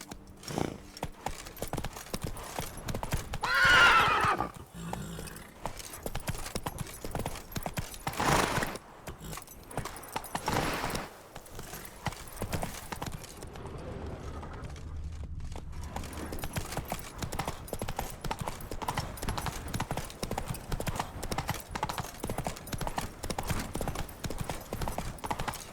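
A horse galloping in The Witcher 3, with steady, rapid hoofbeats running through the whole stretch, a brief whinny-like burst early on and game ambience underneath.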